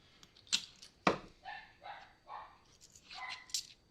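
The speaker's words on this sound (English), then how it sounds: "I'm trying to keep the dog from barking." A dog gives a few sharp barks and yips, spaced unevenly, fairly close but not loud, with quieter whimpering sounds between them.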